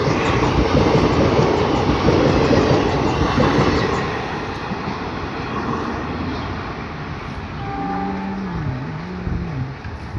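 A WDG4D diesel locomotive hauls the Lalkuan–Kasganj passenger train with a loud, close rumble of engine and rolling wagons that eases off, followed near the end by a few sustained tonal notes.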